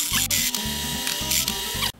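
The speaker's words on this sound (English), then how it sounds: "So it's a metal drilling bit," Loud, harsh grinding of a step drill bit cutting through metal in steady bursts, with brief pauses between passes, close up, ending abruptly.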